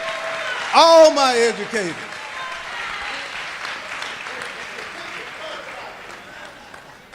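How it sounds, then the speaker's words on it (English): Audience applause for educators at a Georgia governor candidates' forum in Warner Robins, a steady mid-level wash of clapping that runs the whole time, with a loud voice calling out over it near the start. "let's give them a round of applause"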